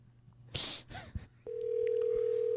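A telephone line tone of an incoming caller starts abruptly and holds as a steady, loud single-pitched hum, preceded by a few brief knocks and rustles.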